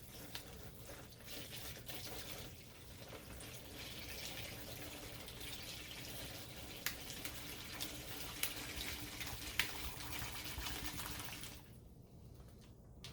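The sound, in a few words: water filling container for turkey brine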